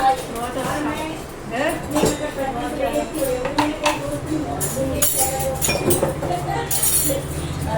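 Dishes being washed at home clink and clatter, with steel pots and utensils knocking together under people talking nearby.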